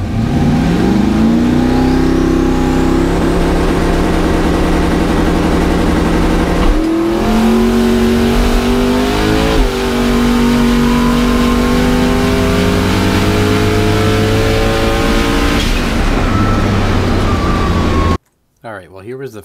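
A turbocharged race car on a personal-best drag-racing pass holds a loud, sustained engine howl that climbs in pitch through several gear shifts, close and continuous, before cutting off abruptly at the end.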